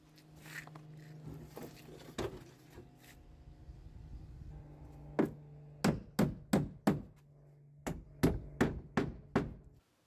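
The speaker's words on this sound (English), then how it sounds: "the board sits at the perfect height so you can hammer it without having to bend down or lean up" Cladding boards are hammered onto battens for a garden room workshop, with a quiet stretch of handling noise and then two quick bursts of four or five sharp, close hammer blows.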